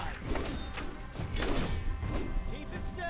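Combat in an indie action game where an essence explosion bursts, with a series of muffled thuds and impacts over a busy, noisy mix at moderate level.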